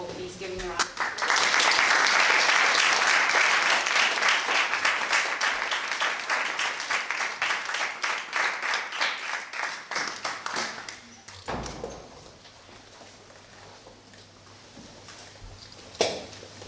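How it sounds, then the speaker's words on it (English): Sustained round of applause from an audience welcoming Devamrita Swami to the stage at an evening talk. It swells quickly, stays dense and steady for about ten seconds, then thins out and fades to a few stray claps. "if you could all please give him a round of applause"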